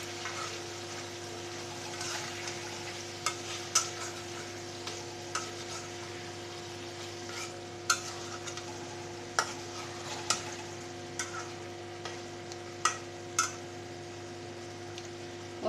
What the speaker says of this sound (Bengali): এবার মিক্স করে নেব।